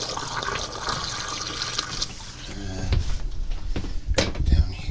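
Liquid is poured into an RV gray tank drain while winterizing a Geo Pro 19FBS, a gurgling, splashing flow that rises and sloshes, with a few clunks and drips toward the end.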